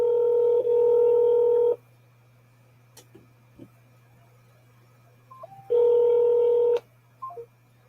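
Telephone keypad tones sound on a police department phone line: a long steady beep, a pause with faint clicks, then a second long tone and a couple of short blips, close and clear.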